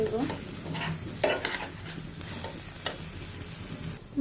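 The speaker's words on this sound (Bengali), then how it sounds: "দিয়ে ভালোভাবে ভেজে নিব।" Ginger and garlic paste frying for pilau sizzles steadily while a spoon stirs and scrapes the pan in repeated strokes, close and fairly loud.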